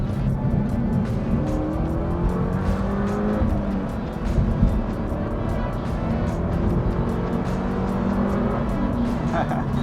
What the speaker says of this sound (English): A lot more like intake noise,